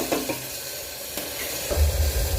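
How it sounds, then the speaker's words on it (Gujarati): Tomato puree and spice masala fry in a pan for a pea and potato dish, giving a close, steady sizzle with a brief stirring scrape and a rising burst of bubbling near the end, with no talking. "હવે આપણો મસાલો શેકાય છે"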